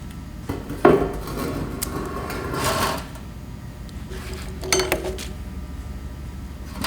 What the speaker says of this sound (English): remove this aggregate to a clean pan and then dry it in the oven for 24 hours